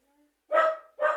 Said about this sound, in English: is there supposed to be the dog barking in the background for this post?